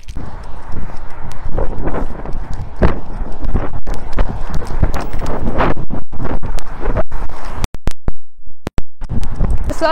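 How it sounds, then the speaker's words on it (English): Strong gusts beside a main road buffet the microphone in heavy, uneven thumps and roars, with brief lulls where the wind drops out. "it's really windy"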